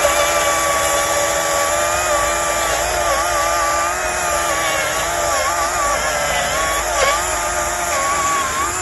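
A Stihl MSA 200 cordless battery chainsaw cutting through a log, a continuous high electric motor whine with slight pitch wobbles as the chain bites, loud and close for about nine seconds with no talking.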